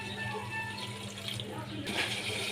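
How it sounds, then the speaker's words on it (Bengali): A little water poured into a pan of fried ground spice paste for a Bengali bhola fish curry, a soft splashing trickle with a brief brighter surge near the end, fairly quiet throughout. "এবার এর মধ্যে আমি সামান্য একটু জল দিয়ে দেব।"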